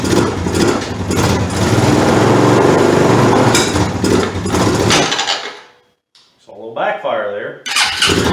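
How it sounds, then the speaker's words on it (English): An ATV engine running on bad gas revs roughly and loudly, sputtering and cutting out into near silence, then coughing back with uneven pops and a backfire; a voice talks over parts of it. "Backfire there."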